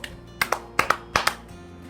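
Hand claps in quick pairs mimic the beat of galloping hooves, three double-claps in a loping rhythm, close and crisp.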